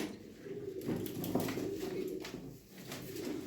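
Racing pigeons coo steadily in their home loft, a soft, continuous murmur of several birds with repeated low throaty calls running throughout, close and moderately loud.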